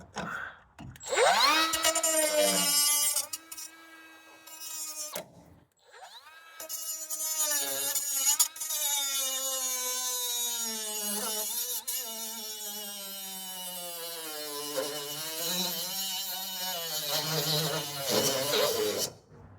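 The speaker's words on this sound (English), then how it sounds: "So I'm just gonna make a cut and see if I can pop that nut off. Use my trusty little grinder here." A small angle grinder cuts a nut off the body mount of a Chevy Blazer during a teardown, a loud close whining buzz that spins up, cuts in sustained stretches and briefly stops and restarts.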